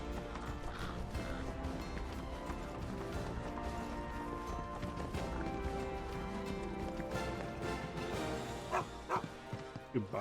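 In the Final Fantasy VII Rebirth video game, a dog barks a few times over steady in-game music, with hoof-like clip-clop footsteps alongside.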